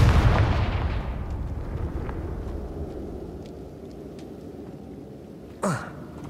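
A Confringo explosion spell goes off in Hogwarts Legacy as a loud, booming blast that rumbles and slowly fades over several seconds, followed near the end by a short, sharp whoosh.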